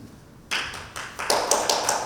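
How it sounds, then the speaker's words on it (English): Audience applause starting abruptly and building in a few quick waves of fairly close, sharp clapping bursts for about a second and a half. "Hey, got applause now."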